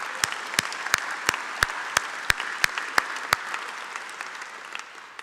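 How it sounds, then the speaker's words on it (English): An audience at a small-business event at the Smithsonian's American History museum gives a short round of applause, with light clapping carried under one sharp clap repeating at a steady rhythm close to the microphone. "Let's give them a round of applause."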